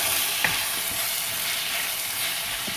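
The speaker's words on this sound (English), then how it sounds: "I'll give it a quick stir. Bit of onion in there, that doesn't matter. Give that a stir." Chinese chicken with onion sizzles and fries steadily in a pan while being stirred, a dense continuous crackle close up with faint scraping, no voices.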